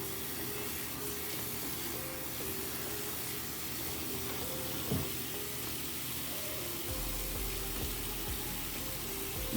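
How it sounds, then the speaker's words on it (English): Brushes and durags soak under running water in a sink, a steady faint wash of flowing and splashing water with a low hum underneath, no voices. "we just getting them all wet real quick and then we gonna wash individually"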